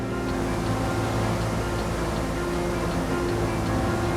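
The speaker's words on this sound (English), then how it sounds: "It's just water coming down and coming down." La Paz waterfall pours continuously, giving a dense, steady roar of falling water with no breaks and a constant low rumble throughout.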